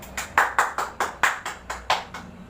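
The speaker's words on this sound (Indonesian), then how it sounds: "mari kita beri tepuk tangan untuk semua kelompok" A primary school class claps for the groups, about ten crisp hand claps in a quick, slightly uneven rhythm, close and clear with no voices.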